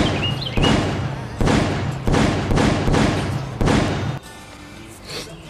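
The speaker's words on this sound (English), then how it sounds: "stop shooting your gun!" Gunfire rings out in the woods: five loud, heavy shots in a steady rhythm roughly a second apart, each a sharp boom that rolls on into the next, followed by a quieter tail with a faint distant thud.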